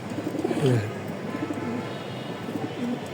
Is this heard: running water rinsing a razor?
no